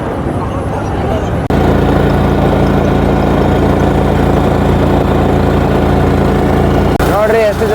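A boat engine on the Ganga at Varanasi rumbles loudly and steadily close by, a heavy low idling drone that runs almost the whole time with a brief break near the start.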